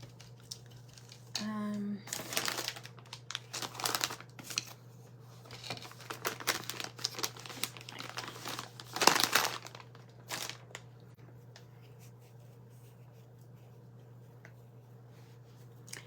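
Scrapbook paper is handled and crinkled in sporadic bursts of rustling, louder in the first ten seconds and fading to near quiet. A steady low hum runs throughout.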